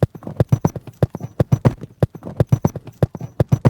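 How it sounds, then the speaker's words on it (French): Galloping horse hooves chopped and rearranged into a rhythmic pattern, loud close clip-clop hits repeating in a steady, punchy beat with no talking. "j'ai trouvé cette vidéo où il enregistre des chevaux en train de courir"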